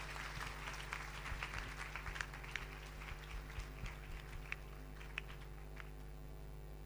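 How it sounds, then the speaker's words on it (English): Audience applause at a live spiritual satsang gathering in London, a moderate patter of many hands clapping steadily over a constant low hum, without speech. "Let's give them a round of applause."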